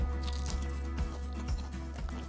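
Crunchy roasted potatoes flavored with rosemary, sage and garlic are bitten into close to the microphone, giving several sharp, crisp crunches at a steady chewing rhythm.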